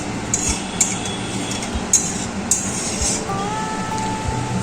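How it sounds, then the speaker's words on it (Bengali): Pabda fish curry with added water stirred in a pan, a spoon scraping and clinking against the metal in a few sharp taps over a steady simmering bubble. "এবার একটু ভালোভাবে নেড়ে চেড়ে নিচ্ছি।"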